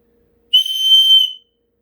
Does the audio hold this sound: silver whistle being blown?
yes